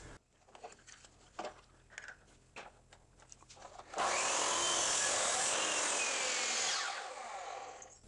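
A power saw cuts through a wooden pyramid puzzle piece held in a clamp, starting abruptly with a loud, steady whine that runs about three seconds before easing; quiet tapping and handling noises come first.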